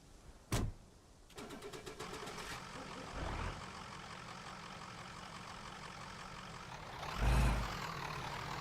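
A truck in the video game DayZ cranks over and catches, with two sharp starter bursts before settling into a steady, loud idle hum that swells again near the end.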